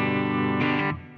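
A sustained electric guitar chord through a Fender Mustang Micro Plus rings with a splashy spring reverb tail, swelling briefly then decaying into a lingering wash.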